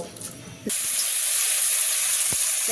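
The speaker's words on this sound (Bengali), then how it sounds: "সেদ্ধ করা সয়াবিনগুলি এখন ভেজে নেব" Boiled soybeans hit hot oil in a pan, and a loud, steady hiss of frying starts abruptly after a quiet moment. It continues close and even, with a couple of soft knocks from the pan.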